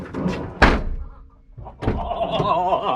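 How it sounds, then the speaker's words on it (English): A car door thuds shut with one sharp, solid slam after a racing seat is fitted inside, followed by a voice talking close by. "make sure the door closes"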